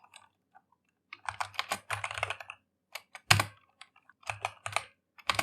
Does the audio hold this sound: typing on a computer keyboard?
yes